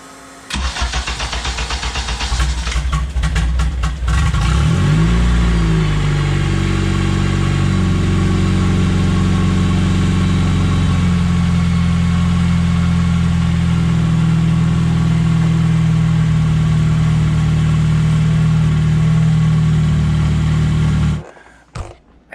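A Honda K24 engine swapped into a Porsche 996 cranks, catches and fires up, then settles into a loud, steady idle for many seconds before being shut off abruptly.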